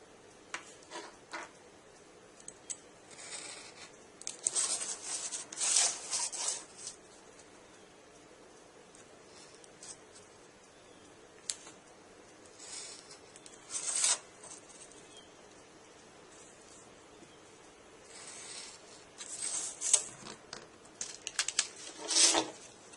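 A blade cuts through cardboard for a model airport jetway piece, making scratchy rasping strokes in short bursts separated by quiet pauses, close and fairly faint, with no one speaking.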